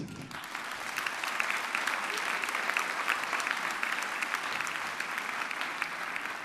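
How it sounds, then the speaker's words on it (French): Steady applause for the musicians of a harmony band at a concert, many hands clapping continuously and fairly loud throughout, with no voices over it. "Moins de 10 ans d'harmonie, on les applaudit."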